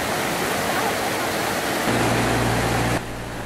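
Floodwater rushes loudly and steadily through a flooded street after heavy rain, a dense broadband roar that shifts partway through as a low engine hum from a vehicle joins in near the end.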